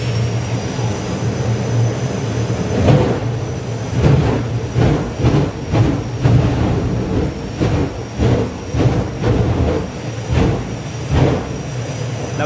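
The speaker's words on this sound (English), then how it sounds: "that is a Volkswagen bus with a jet on the back" Jet turbine-powered Volkswagen bus at a drag racing meet, its turbine roaring loud and steady, with repeated rhythmic bursts and surges as the engine is spooled up before rolling forward.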